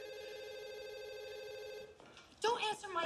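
A cell phone rings with a steady tonal electronic ring for about two seconds and then stops, after which a person starts talking.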